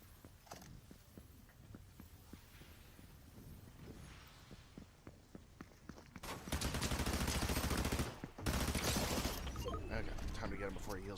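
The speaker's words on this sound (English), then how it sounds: "Hearing gunfire from Crime City." Gunfire in the Fortnite video game, first as scattered single shots, then dense bursts of rapid automatic fire that grow louder toward the end, with a voice underneath.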